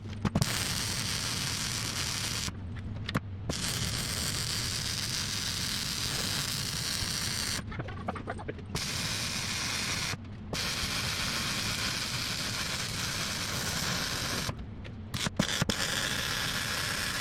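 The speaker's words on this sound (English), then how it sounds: "Now do a little bit of upside down welding." Arc welding done upside down on a farm feeding wagon: steady, loud crackling and hissing buzz running almost continuously, broken by a few brief pauses where the arc stops and restarts.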